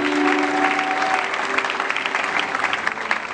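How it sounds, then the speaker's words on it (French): A church congregation applauds loudly, dense clapping filling the room steadily with a few sustained voices and tones at first, then continuing as a steady roar of applause. "On peut acclamer le Seigneur très fort."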